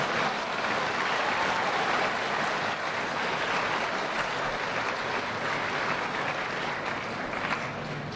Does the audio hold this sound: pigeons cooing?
no